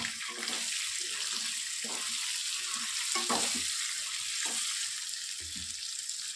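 Brinjal frying with salt in a pan, stirred in repeated short scraping strokes over a constant loud sizzle, close and without voices.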